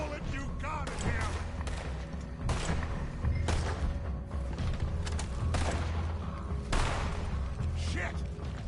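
Gunfire in Red Dead Redemption 2, with repeated loud gunshots and booming blasts in irregular bursts over a dense rumbling shootout, while people shout throughout.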